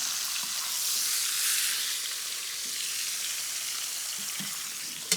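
Cornmeal-crusted rainbow trout sizzling in a frying pan, a steady, soft, close hiss that continues evenly throughout with no voices.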